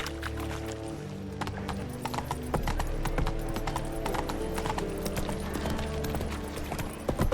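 Hooves clip-clop steadily from Roach, a horse in the video game The Witcher 3: Wild Hunt. The rhythmic trotting stays close and clear and runs over a constant game soundscape with low ambient music throughout.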